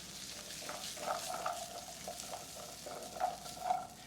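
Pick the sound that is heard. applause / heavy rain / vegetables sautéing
vegetables sautéing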